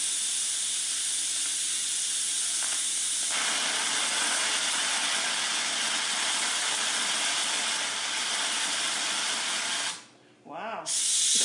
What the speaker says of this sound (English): It is still under pressure, so we're going to manually release the pressure.